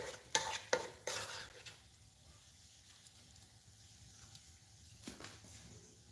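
White fish frying in a pan, a quiet steady sizzle with a few clinks and scrapes of utensils near the start and a small bump near the end, no talking.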